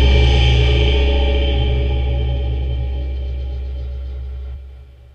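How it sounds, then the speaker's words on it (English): A gong sample played through a grain sampler: a deep, resonant tone with shimmering, grainy overtones sustains and slowly fades away, ending with a soft low hum. "It's a gong that I have playing here in the grain sampler,"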